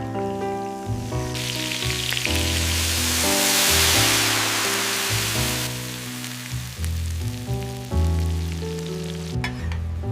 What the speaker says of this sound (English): Sear those thighs skin side down until they're golden and crispy.